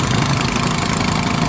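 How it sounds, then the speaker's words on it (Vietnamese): A small cube boat's diesel engine chugs loud and close, a steady low idling rumble with no pauses, out on a waterway near a lock. "Đây có chiếc cube đang chuẩn bị đi vô nè các bạn."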